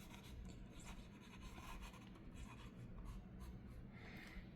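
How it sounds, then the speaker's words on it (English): Continuous dry rasping and rubbing of an acrylic marker dragged across a surface, steady and close, with short scratchy strokes throughout and no talking. "let me just write with this acrylics"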